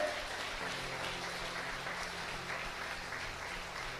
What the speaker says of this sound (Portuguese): Jesus merece um aplauso ou não merece?